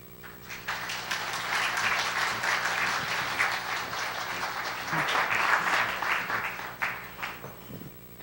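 An audience applauds steadily to welcome a speaker at a CSL Nashville gathering, with sustained dense clapping from a full room that holds for several seconds and tapers slightly at the end.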